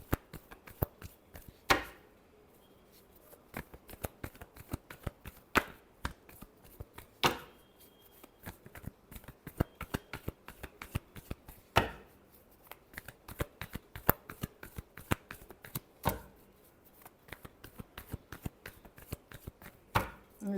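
Playing cards are shuffled repeatedly during a tarot-style reading, making crisp riffling bursts and rapid slaps that come in irregular clusters across the whole stretch, fairly close and with no one speaking.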